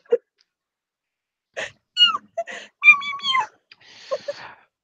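A man imitates a cat with his voice, giving a short sequence of nasal meow-like calls and squeaks, close and clear, separated by brief pauses in an otherwise quiet setting.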